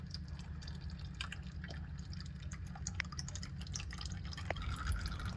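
Engine oil drains from a 2013 Hyundai Genesis 3.8L in a faint, steady trickle with scattered drips over a low background hum.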